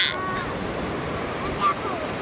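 Sea waves wash steadily onto the beach at Laem Mae Phim in Thailand, a continuous surf roar mixed with wind noise on the microphone, with a brief faint voice.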